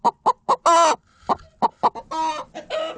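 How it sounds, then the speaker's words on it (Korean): A hen disturbed while trying to lay clucks angrily up close: sharp staccato clucks broken by loud drawn-out squawks, loud and alone. "써니의 울음소리를 듣고 수탉왕초가 왔다."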